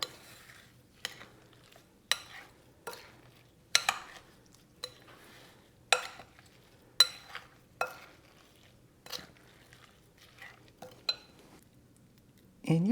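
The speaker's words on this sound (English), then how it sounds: "I'm going to mix this up, starting with the spoon" A spoon stirs and scrapes shrimp cake mixture in a bowl, giving a dozen or so separate clinking strokes against the bowl at an irregular rhythm, close and fairly quiet, with soft rustling between strokes.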